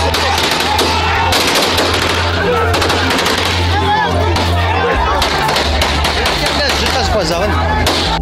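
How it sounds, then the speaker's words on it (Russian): Gunfire from firearms during a street brawl involving dozens of men in Russia, loud repeated shots rattling over a noisy, shouting crowd. "На записи также слышны звуки стрельбы из огнестрельного оружия."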